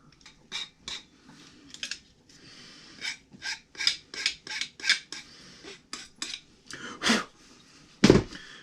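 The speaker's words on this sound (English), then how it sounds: "Me personally, I am going to use the file." A hand file is worked over a metal part, leaving a burr: about a dozen rhythmic rasping strokes in a steady back-and-forth, close and fairly loud, with a sharper metallic clank near the end and no talking.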